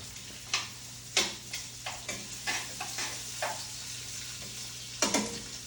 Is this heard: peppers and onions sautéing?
yes